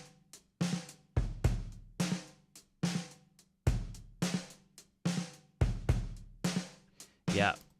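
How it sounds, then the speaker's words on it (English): A programmed Logic drum groove for a pop-style song, punchy kicks and snares in a steady repeating pattern with short decaying hits, played alone and fairly close. "these are the drums that I programmed"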